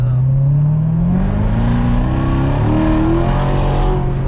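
A Corvette engine roars up in pitch as it accelerates hard, loud and close, the tone climbing steadily before easing slightly.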